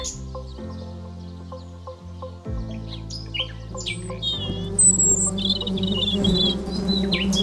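Small birds chirp and tweet in short bright calls over a sustained musical background of layered tones, with the chirps growing busier and more frequent toward the end.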